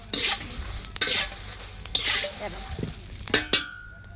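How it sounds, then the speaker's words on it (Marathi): Chillies roasting in a pan while being stirred, a soft sizzle under repeated scraping and rattling strokes of a spatula, close and moderately loud with a metallic clink near the end. "अजून दोन मिनटं मी भाजून घेते"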